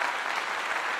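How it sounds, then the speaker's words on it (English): Dense crowd applause fills a short burst, a steady wash of many hands clapping with no pauses. "Let me give you a clap."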